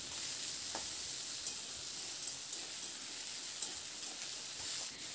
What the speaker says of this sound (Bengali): কেটে রাখা আলুটা দিয়ে মিডিয়াম টু হাই ফ্লেমে বেশ কিছু সময় ধরে আলুটাকে প্রথমে একটু ভেজে নিতে হবে।